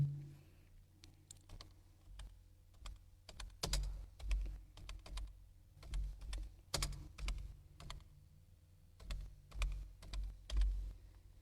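Fingers type a song name on a computer keyboard, producing soft, irregular clusters of key taps with short pauses between bursts, close and quiet.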